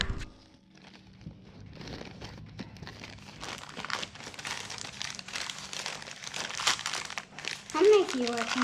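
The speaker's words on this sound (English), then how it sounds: "let's open a bag and see what's in here" A bag being opened in a barn beside an old baler, crinkling and rustling plastic growing louder and denser, with people talking over it.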